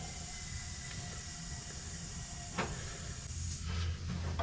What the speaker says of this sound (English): Let's just shove the airline on the compressor. Let's just see if it actually inflates.